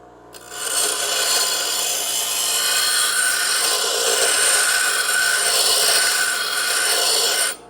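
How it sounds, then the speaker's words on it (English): A bench grinder grinding metal on a car's rear frame rail repair, a continuous abrasive rasp moved back and forth, loud and close, starting and stopping cleanly with no talk. "Note that with the grinder, I'm going back and forth."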